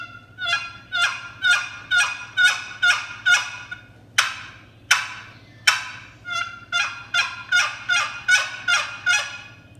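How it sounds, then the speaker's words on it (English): A Lynch single-sided wooden hen box turkey call worked by dragging the paddle across the lip, producing loud, close, raspy hen yelps in rhythmic runs of short notes, with brief pauses and a few isolated single strokes between series. "You drag the paddle across one of the lips of the box and it creates a sound."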